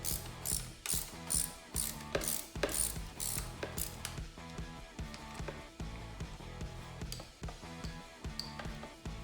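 A 12mm ratcheting spanner works the handlebar pad bolts on a Yamaha PW50, clicking in quick close bursts, sharper at first and then settling into a steady, softer ratcheting rhythm.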